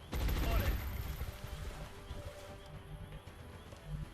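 Suppressive gunfire in the strategy game XCOM: Long War, a burst of rapid shots opening loudly and then trailing into quieter, scattered crackles and rumble over a background of game sounds.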